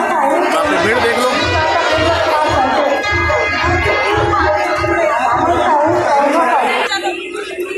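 Crowd chatter at the crowded Chhattisgarh Rajyotsav 2019 fair, a dense murmur of many voices near and far, with rhythmic music or drumming pulsing underneath and a person talking close by.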